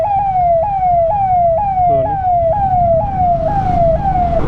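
An ambulance siren stuck at a railway crossing wails loudly and steadily in repeated rising sweeps about every half second, over a low rumble of road traffic, with no talk.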